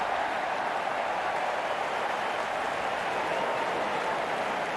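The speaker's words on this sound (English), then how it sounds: "Huge cheers from the crowd as the players make their way out into the ground" A test-match cricket crowd cheers as the openers walk out onto the ground, a steady, distant wash of applause and cheering that holds an even level throughout without any talk over it.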